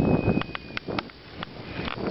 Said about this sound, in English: The wind picked up too, just now.